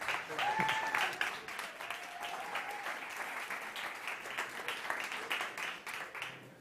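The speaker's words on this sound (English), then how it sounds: "Please welcome Funding on stage and Nacho Bautista. Big applause." An audience at a startup competition stage event applauds a team taking the stage, a steady wash of many hands clapping at moderate distance, fairly faint throughout.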